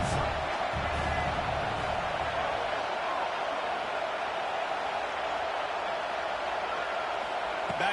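A college football stadium crowd roars on a third down, a steady, loud wall of cheering noise with a commentator talking over it.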